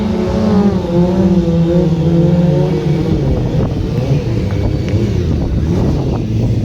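A motorcycle engine at a 2024 Birmingham stunt show roars close and loud through a staggered wheelie, holding a steady droning tone before its pitch shifts and wavers toward the end.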